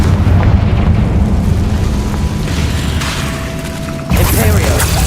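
A Confringo spell goes off in Hogwarts Legacy, a loud, sustained rumbling blast with a thin tonal whine, then a fresh burst of crackling debris near the end.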